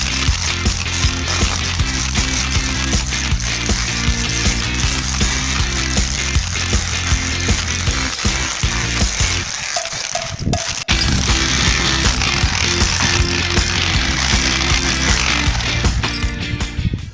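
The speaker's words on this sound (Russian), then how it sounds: "с помощью перфоратора готовлю цоколь штукатурки" Rotary hammer drill chipping at a house plinth to prepare it for plaster, clearing old soil and crumbling brick. A loud, steady rattling hammer runs nearly throughout, with one short pause midway.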